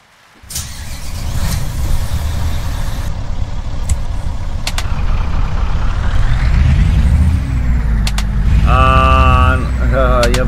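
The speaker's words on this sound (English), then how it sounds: "The truck is still the Mercedes-Benz Actros 360" A Mercedes-Benz Actros 360 truck with a speed retarder, in a truck-driving game, hums steadily under load with engine drone rising over time and a sharp air-brake hiss near the start and toward the end.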